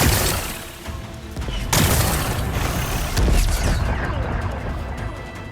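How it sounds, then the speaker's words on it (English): Rocks are blasted apart in Horizon Forbidden West: loud, dense explosive crashes and rumbling debris, with a big burst near the start and further heavy impacts, all filling the sound continuously before easing slightly at the end. "blast away some rocks, so I can expose the power cell"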